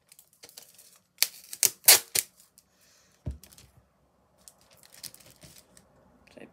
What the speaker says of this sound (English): grab some tape, pull the tape out